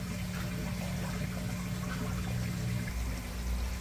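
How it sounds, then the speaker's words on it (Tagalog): Water streams steadily out of a sump tank into azolla ponds on a recirculating aquaculture farm, a constant rushing flow with a low rumble beneath it, close by and with no voices. "Pagkatapos ng sump tank, lalabas po yung tubig papunta sa may mga asola"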